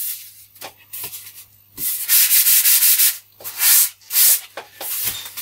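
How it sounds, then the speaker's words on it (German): Soft sanding sponge rubbed over the tail of an F3K model glider, giving bursts of scratchy, hissing friction strokes in an uneven rhythm, close and fairly loud with no talking. "Dann den weichen Schleifschwamm nehmen."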